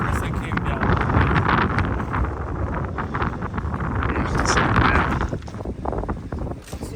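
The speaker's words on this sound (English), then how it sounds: "we've got a little bit of wind today" Strong, steady wind buffets the microphone on a desert mountain saddle between Joshua Tree and Anza Borrego, a loud continuous roar with gusts swelling and fading throughout.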